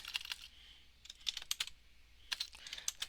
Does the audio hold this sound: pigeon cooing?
no